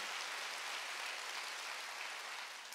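A church congregation at a Wednesday worship service claps together in a steady, full round of applause that holds evenly for a few seconds before tapering slightly at the end.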